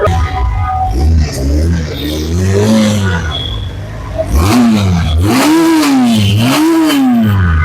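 A Pilder V4 motorbike engine revs repeatedly up close, pitch swooping up and down in loud rising bursts, with people talking around it.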